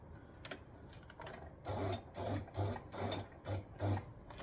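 A sewing machine stitches a dress seam in several short bursts of rapid mechanical whirring separated by brief pauses, quiet and close.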